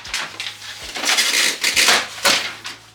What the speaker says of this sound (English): Now we're good to cut our straps.